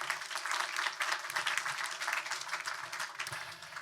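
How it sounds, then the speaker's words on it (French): Sustained audience applause fills a round-table session on building-material reuse, steady broadband clapping from a room full of people with no voices over it. "On peut vous applaudir également."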